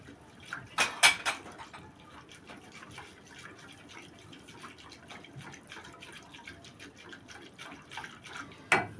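Cold ice water is poured from a cup into a mango jelly powder mix and stirred, giving a brief splashy pour up front, then soft quiet liquid sloshing and stirring.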